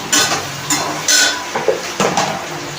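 Spices hiss and crackle in a hot pan as a utensil scrapes and clinks against the metal in several strokes, close and fairly loud.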